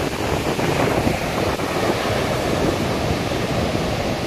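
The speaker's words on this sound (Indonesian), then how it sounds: "Wow, makin ngeri ombaknya." Ocean waves crash and roar below a sea cliff on the Australian coast, a loud continuous wash of surf with wind buffeting the microphone.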